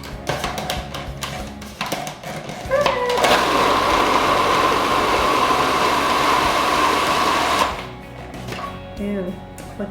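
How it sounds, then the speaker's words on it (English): A food processor whirs loudly for several seconds in one steady burst, with clattering and handling noises before and after. "I'm going to go ahead and give this a good pulse"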